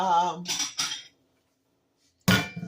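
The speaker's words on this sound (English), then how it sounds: "dish here. Move it over here out the way." A dish is grabbed and shifted aside on a kitchen counter while Swiss steak is prepared, giving a short, close clatter of crockery and metal after a gap of silence, with a person talking just before.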